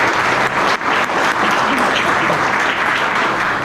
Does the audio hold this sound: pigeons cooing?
no